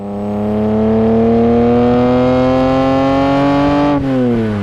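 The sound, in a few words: Ferrari Testarossa 512M engine revving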